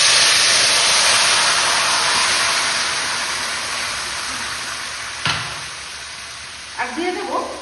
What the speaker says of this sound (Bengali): এবার প্রেসার কুকারে সিদ্ধ করা মাংসটা এই কড়াইয়ে আমি ঢেলে রেখেছি, এটা ফোড়নে দিয়ে দিচ্ছি।